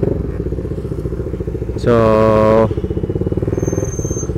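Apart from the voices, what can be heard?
CFMoto 300SR motorcycle riding, engine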